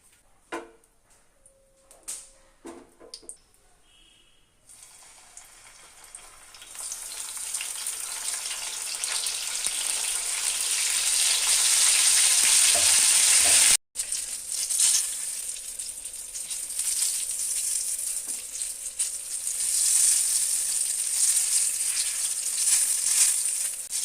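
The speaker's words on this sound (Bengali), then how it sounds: "কিছুটা তেল দিয়ে বেগুনটাকে ভেজে নেব।" Eggplant frying in oil: after a few soft clicks and handling sounds, a loud, close, steady sizzle builds and holds, briefly cutting out, then continues with occasional stirring.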